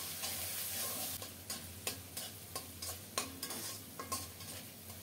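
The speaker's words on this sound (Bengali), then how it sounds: "মশলাটাকে ভালো করে কষিয়ে নেব" Spices sizzle steadily in hot oil with salt, tomato and turmeric, while a spoon scrapes and stirs the pan in regular strokes about every half second, close and moderately quiet.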